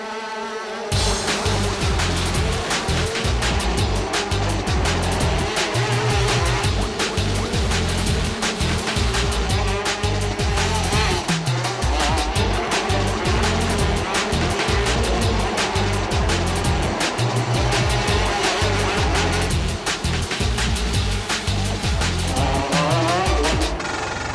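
Motorbike race engines roar loud and close throughout, a dense, steady wall of revving with rhythmic pulsing low in the mix and no talk.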